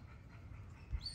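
An XL American Bully dog pants softly and lets out a brief whimper near the end, close by and fairly quiet, with no talking.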